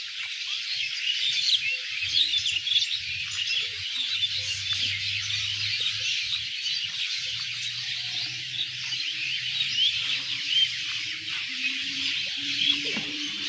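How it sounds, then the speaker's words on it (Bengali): Dense, continuous chirping from a large flock of sparrows gathered at their nests at dusk in a village in Dhamrai, Dhaka, a steady high twittering wash with a low hum underneath. "কিচিমিচি করছে পাখিরা নিজের বাসায় শত শত চড়ুই যেন কিচিমিচি করছে"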